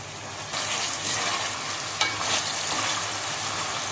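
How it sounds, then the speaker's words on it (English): Chicken with ginger-garlic paste frying in a pan, a steady close hiss of sizzling oil with faint stirring scrapes running throughout, no voices. "Now I fry it well and then add the other ingredient"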